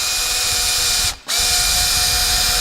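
A power drill whirs steadily while countersinking a screw hole for a handle or hinge, with one brief stop in the middle before the motor spins up again, close and loud.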